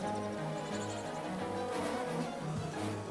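A dense, steady insect buzz like a swarm of bees in the Don't Starve video game, droning continuously and fairly loud throughout with a layered hum and no talking.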